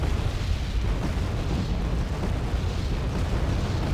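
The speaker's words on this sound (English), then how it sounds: "And oh, artillery, a lot of MLRS" MLRS rocket artillery barrage in the video game Wargame Red Dragon, a dense continuous rumble of overlapping explosions, loud and heavy in the low end, with no clear gaps between blasts.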